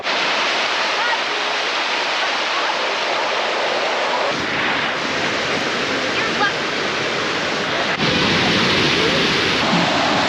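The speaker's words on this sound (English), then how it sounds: "let's go check out this awesome waterfall" A waterfall at the Crystal Mill near Schofield Pass, Colorado, roars as a loud, steady broadband rush that fills the scene, with brief wind buffeting on the microphone.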